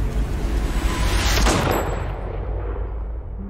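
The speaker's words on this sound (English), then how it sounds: "And then the gunshot." A heavy gunshot booms in an Xbox video game trailer, a dense roaring blast with a rumbling low-end decay that fades over a few seconds.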